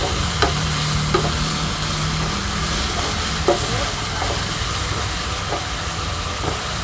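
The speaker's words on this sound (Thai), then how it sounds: "ผัดไปเรื่อยๆค่ะ" Crispy pork cracklings stir-fried with red curry paste, fish sauce and kaffir lime leaves in a camp-style kitchen give a steady loud sizzle, with sharp spatula scrapes against the pan every second or so.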